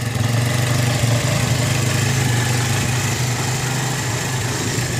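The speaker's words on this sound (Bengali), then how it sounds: "বলে বোঝাতে পারবো না সাউন্ডটা কেমন, মানে এত মিষ্টি আওয়াজ।" A CFMoto 150NK motorcycle, about 12 horsepower, idles steadily nearby with an even, low, continuous engine hum that holds unchanged throughout.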